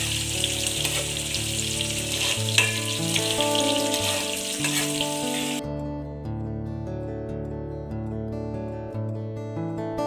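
Green chilies and onion fry in hot oil for a Telangana-style red chili fish curry, giving a steady, close sizzle that continues under prominent background music.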